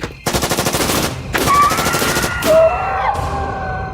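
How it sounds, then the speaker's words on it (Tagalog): Rapid bursts of M16 rifle fire, a fast volley of loud, close shots ringing out in quick succession and then dying away. "Sunod-sunod na putok ang pinakawalan ni Noel mula sa kanyang baril."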